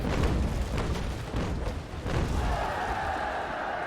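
Ship cannons fire in the Naval Action naval combat game, a string of deep booming blasts rolling into one another, loud and close, followed by a lingering rumble with a steady higher tone.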